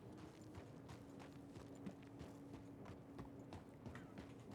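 Horse hooves clip-clop steadily in the western game RedM, an even walking rhythm of soft thuds under a faint low hum, quiet and continuous with no voice.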